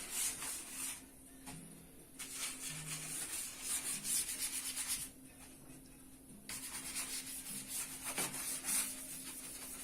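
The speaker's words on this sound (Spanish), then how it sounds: "humedecemos la punta de la brocha, sacudimos para que no haya exceso de humedad y empezamos a limpiar" A soft-bristled brush, dampened at the tip, is swept across a Lenovo IdeaPad 320 laptop during cleaning, giving a steady close brushing rub broken by a few short pauses.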